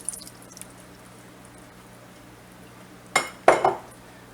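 Crushed tomatoes from a jar go into a pot of chili: faint kitchen quiet, then a couple of soft clinks and wet plops of the sauce landing near the end.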